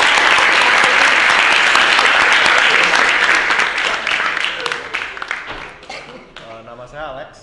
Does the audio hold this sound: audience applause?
yes